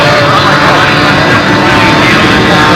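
A control-line model aircraft engine, a TA-154 at a scale stunt event, runs loud and continuous with a dense, buzzing roar that never lets up.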